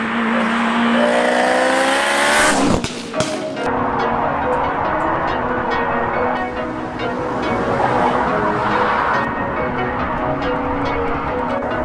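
A 430bhp K20 turbo Honda Integra DC5 on the move, its engine loud and close, with a brief sharp change near the start before the drone settles into a steady cruise.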